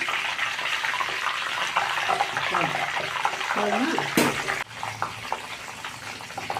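Salt water is poured little by little into melting butter while making ghee, giving a steady, fairly loud hiss and splutter of liquid hitting hot fat, with a brief sharp burst near the end and voices faintly in the background.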